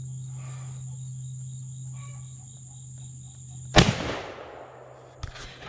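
A single 50-110 rifle cartridge going off outdoors, a sharp close crack with a short echo tail that breaks a steady backdrop of crickets and insects, then a smaller bang about a second and a half later.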